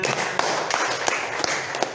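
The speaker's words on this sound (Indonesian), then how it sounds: "Tepuk tangan lagi untuk temannya" A classroom of pupils claps for a classmate, a short patter of scattered hand claps with a few sharper slaps standing out, moderately loud and close.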